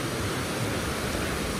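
Timbulun waterfall at Painan, seen at its second level, gives off a continuous even roar of falling water, steady and unbroken across the short stretch.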